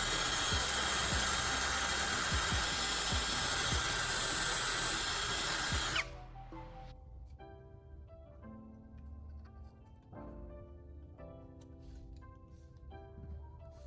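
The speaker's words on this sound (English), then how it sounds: "I'll drill a new hole through its center." A loud, steady power drill whirs for about six seconds boring through molded plastic, then stops abruptly, followed by quieter clicks and light tapping.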